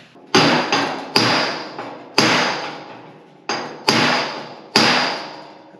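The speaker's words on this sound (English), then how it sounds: "That's a little hammer." Small hammer striking the metal bed of a 1954 Chevy 3100 pickup, seven sharp ringing blows in an uneven rhythm, each leaving a short metallic decay, loud and close with no talk.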